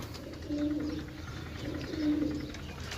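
Pigeons from pairs offered for sale coo close by in two soft, rolling calls about a second and a half apart, with a low background murmur.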